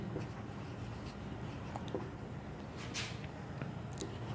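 Pen writing on paper during a physics derivation lesson, faint scratchy strokes in short irregular bursts against quiet room noise.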